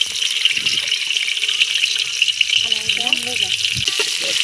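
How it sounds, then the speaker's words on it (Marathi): Chopped onion dropped into hot oil for a masala rice cooked outdoors, giving a steady loud sizzle with faint water-like hiss, while a voice talks briefly partway through. "त्यामुळे मी कांदा टाकून घेतला"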